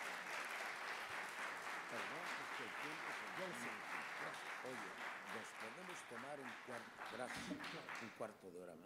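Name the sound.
audience applause for a speaker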